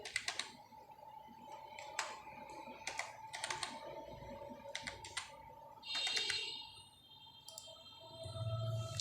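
A phone number being entered on a computer keyboard, close, crisp key taps in short irregular clusters with brief pauses between them, over a quiet background hum.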